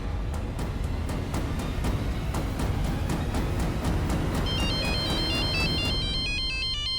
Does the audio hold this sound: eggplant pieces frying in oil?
no